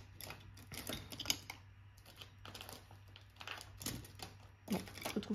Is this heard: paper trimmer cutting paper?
yes